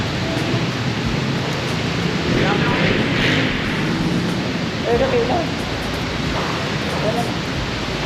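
Rain falls steadily in heavy traffic, a dense, even hiss that fills the whole stretch, with people talking faintly under it.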